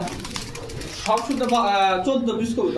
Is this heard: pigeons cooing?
yes